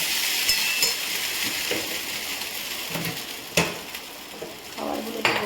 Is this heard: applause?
no